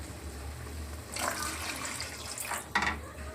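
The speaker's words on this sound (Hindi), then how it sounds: "फिर इसमें मैं ठंडा पानी डालूंगा 3 कप" Cold water poured into a pot while making Kashmiri pink chai, a couple of short splashing gushes over a low steady hum.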